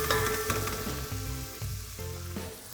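Onions fry in a pan for chicken korma with a bright, continuous sizzle, while a steady tonal background sound with a shifting rhythm runs underneath for the whole stretch.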